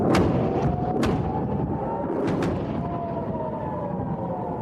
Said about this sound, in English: During the day, air sirens wailed as cross-border fighting escalated.